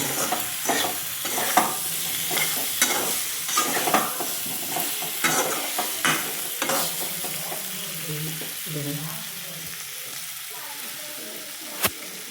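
Curry sautéing in a pan with salt just added, a spoon stirring it in repeated scraping strokes over a steady frying sizzle, close and fairly loud, with scattered clinks and a short sharp knock near the end.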